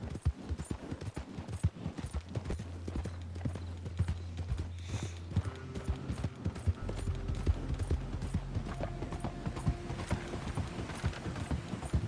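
Horse hooves pound in a rapid, steady clip-clop rhythm as the animal gallops in Red Dead Redemption 2, joined by low game music and faint mechanical clinks.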